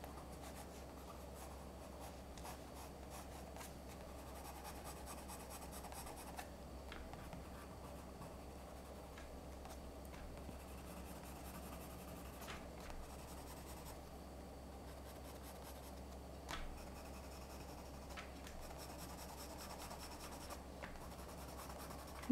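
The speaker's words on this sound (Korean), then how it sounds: "이렇게 좀 질감 있는 종이들은 이렇게 색연필 지나갈 때 사각사각 나는 요 소리가 또 매력이 있는 것 같아요." A colored pencil scratches across textured drawing paper during landscape sketching, a soft, continuous raspy scraping with faint rhythmic strokes, quiet and close, heard alone for over twenty seconds.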